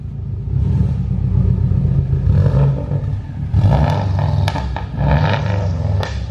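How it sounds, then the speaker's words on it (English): A Subaru WRX engine revs up with a deep, rumbling exhaust roar, loud and close, rising and falling in a few swells over several seconds with no speech over it. "Give her a little rev."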